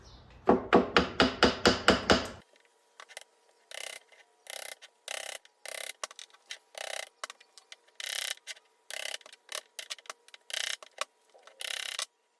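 A quick run of loud metallic taps, followed by a long series of lighter, irregular gentle hammer taps fitting an axle boot on a Saab 900, close and with no talking.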